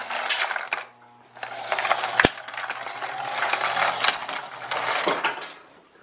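A motor-driven, hopper-fed catapult prototype runs with a steady mechanical whir and rattling ratchet-like clicks, a sharp clack partway through, pausing briefly before resuming close by.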